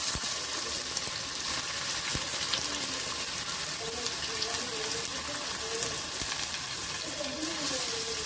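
Chopped onion frying in a hot pan with tomato, grated ginger and curry leaves, a dense steady sizzle held close throughout, with faint scraping of a spoon stirring now and then.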